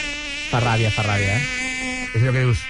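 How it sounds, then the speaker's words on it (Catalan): A mosquito's high, whining buzz drones steadily close to the ear, swelling in louder bursts, while a person speaks briefly over it. "jo el so del mosquit no el suporto"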